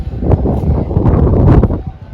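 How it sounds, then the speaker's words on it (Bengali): Steady hot, dry wind on a rooftop buffeting the microphone, a continuous low rumble with gusty surges throughout, no voices. "ছাদে কিন্তু একটু হাওয়া আছে"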